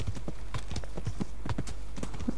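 Horse hooves clip-clop steadily in Kingdom Come: Deliverance, a brisk rhythmic series of close, distinct footfalls repeating at an even trotting pace with no talk over them.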